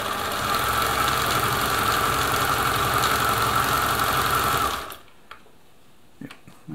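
A Husqvarna Viking Automatic 21e sewing machine stitches in a loud, close, steady run of rapid whirring and needle clatter for nearly five seconds, then cuts off, followed by a few faint clicks.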